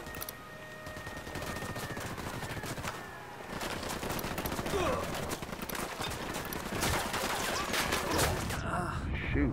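Dense rapid gunfire in a shooting game, bursts of shots crackling continuously at moderate loudness with a voice speaking over it.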